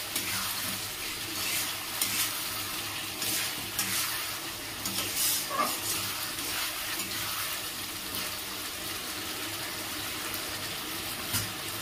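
Potatoes frying with spices in a pan for a Bengali katla fish curry: steady sizzling with stirring and scraping all the way through, close and even, with no talking.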